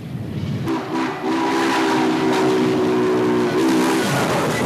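A Norfolk and Western Class J steam locomotive, No. 611, works past a freight car in the Portsmouth, Ohio classification yard, sounding a loud, steady chorded whistle for about three seconds over a low rumbling train.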